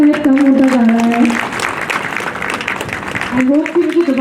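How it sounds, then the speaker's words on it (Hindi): Audience applause at an awards ceremony, moderately loud clapping that swells in the middle while someone speaks over it at the start and end. "तालियों का लेवल शायद कम होता जा रहा है"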